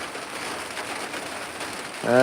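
Heavy rain falls steadily and loudly as a dense, continuous hiss across the whole stretch, with a brief voice starting at the very end.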